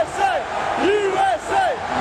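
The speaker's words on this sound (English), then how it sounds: "Crowd chanting USA as usual." Crowd at a professional wrestling event in Columbus chanting USA, a loud rhythmic group chant repeating in waves, heard up close without commentary over it.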